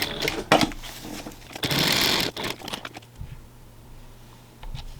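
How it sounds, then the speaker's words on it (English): Sewing machine stitching backpack fabric in a short run of about a second and a half, close and fairly loud, set among handling noises before things go quieter. "And then continue sewing all the way down"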